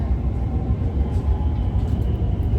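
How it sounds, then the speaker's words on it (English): Low steady rumble of a London Overground Weaver Line train running toward Liverpool Street near Cambridge Heath, a continuous close rolling drone with no breaks. "This is a Weaver Line train to Liverpool Street."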